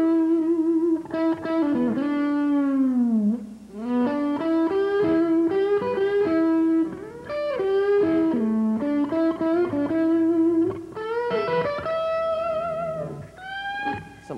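Electric guitar played with a whammy bar to mimic slide bottleneck playing, with continuous pitch bends and swooping glides between sustained, slightly distorted notes, loud and steady with no talking.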